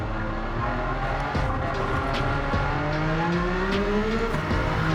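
A racing-modified Jaguar XJ220 in Gran Turismo 7 roars at sustained high revs after a dirt drop, its engine droning loud and close with rising gear-pitch sweeps and tire noise, no voices.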